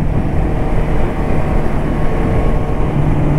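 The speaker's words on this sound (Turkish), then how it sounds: "egzoz sesi dinlemek istiyorsanız devam edin" A steady low motorcycle engine drone rumbles continuously and loudly, a constant exhaust hum with no breaks or voices.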